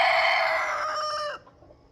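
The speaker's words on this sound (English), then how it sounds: "that's some of my Americana roosters that I've kept extras off of" An Americana gamefowl rooster crows once, loud and close, a single bright call that drops away abruptly at the end.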